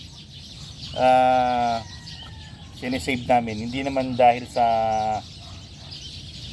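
A Gilmore hen gives several loud, harmonic calls near the microphone, between people talking.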